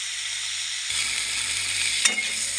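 Spices frying in a pan with only a little oil for a rohu fish curry with drumsticks and potato, a steady close sizzle that swells after the first second, with a brief stir or scrape near the end.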